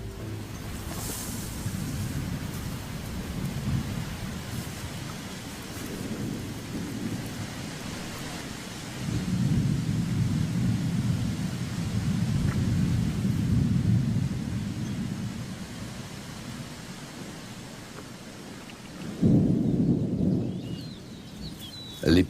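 Rain and wind roar in a stormy wash in the African wild, swelling in gusty surges and dropping back, with a sharp burst near the end.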